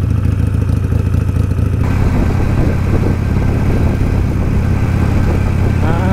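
Loud motorcycle engines rumbling nearby, a steady idle giving way to heavier, clattering engine noise as more bikes join in.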